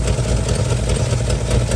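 A boat engine idles steadily while being flushed with water, a loud, constant low rumble with a rushing hiss and no talk over it.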